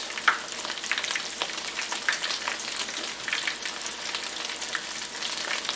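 Cauliflower fries in hot oil with a dense, crackling sizzle, steady and close, with scattered sharper pops and no voices.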